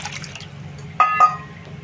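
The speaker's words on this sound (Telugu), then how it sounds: "ఈ గిన్నెలో నీళ్ళు పోసుకోవాలండి." Water poured into a bowl while making motichoor laddu: two brief, close splashy pours about a quarter second apart, over a low steady hum.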